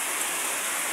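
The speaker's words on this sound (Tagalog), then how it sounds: "Biglang bumuhos ang napakalakas na ulan." Heavy rain pouring down in a dense, steady hiss, loud and continuous with no pauses.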